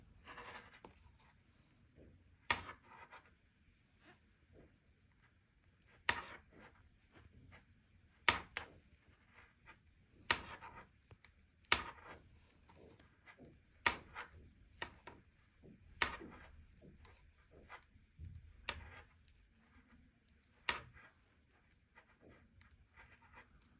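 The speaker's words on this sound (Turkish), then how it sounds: "Şimdi hepsini düz örüyorum." Knitting needles working plain knit stitches across a one-piece overall: quiet, irregular clicks and taps, some sharper and louder, scattered over a soft background with no talking.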